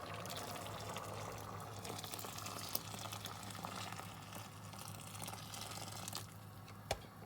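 Hot water pours steadily into a pot of chickpeas with a soft, continuous rushing splash, close and quiet, broken by a couple of sharp clinks.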